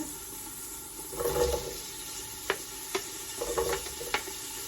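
Onion frying in a pot for Iraqi turnip soup: a soft sizzle with a couple of stirring bursts and a few sharp clicks of a utensil against the pot, close and quiet with no talking.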